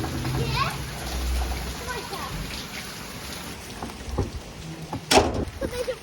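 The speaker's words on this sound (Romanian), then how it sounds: "Dar plouă rău, frate." Heavy rain pours down steadily outdoors, a dense hiss with scattered drops and sharp splashes, while people talk over it nearby.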